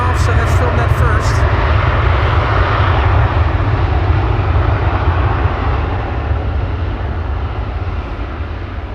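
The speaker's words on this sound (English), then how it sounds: "the A330 is taking off, so let's film that first." An Airbus A330 taking off at Amsterdam Schiphol Airport, its jet engines roaring loud and steady at full thrust, then easing off gradually as the aircraft climbs away, with nobody speaking over it.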